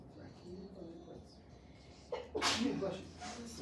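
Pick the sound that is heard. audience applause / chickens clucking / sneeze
sneeze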